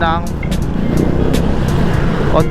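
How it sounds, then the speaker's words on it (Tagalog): Heavy road traffic with jammed cars fills the background, a steady loud rumble of engines beneath a person talking throughout. "Sobrang traffic, promise."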